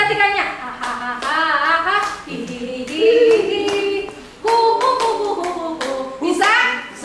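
A group of children claps in rhythm during a classroom clapping game, sharp bursts of hand claps alternating with chanted voices in a lively, uneven beat up close.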